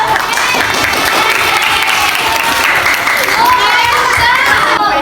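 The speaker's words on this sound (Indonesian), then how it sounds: "Tepuk tangan untuk kita semua dulu." Classroom of eighth-grade students clapping loudly and steadily for about five seconds, with children's voices and shouts mixed into the applause.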